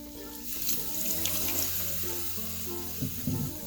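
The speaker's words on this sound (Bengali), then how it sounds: "আবারও জল দিয়ে দিচ্ছি" Water is poured into a cooking pan of drumstick-leaf curry, a continuous close splashing stream with faint sizzling underneath, no speech.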